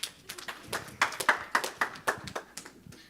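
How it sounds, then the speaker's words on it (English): A short round of applause for a student's demonstration at a camp lecture, with a smattering of claps in an uneven rhythm from a small group, moderately near. "Let's give him a round of applause."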